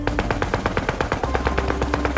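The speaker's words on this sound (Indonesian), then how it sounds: "pasukan Soviet yang bertugas mengalihkan perhatian musuh mulai menembakkan senjata mesinnya" Rapid bursts of Soviet machine gun fire, loud and close, with evenly spaced shots rattling continuously throughout.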